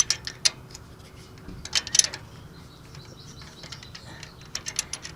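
Ratchet with a 10mm socket loosening a distributor bolt on an 1800 engine, with short bursts of clicking close by, separated by quiet pauses.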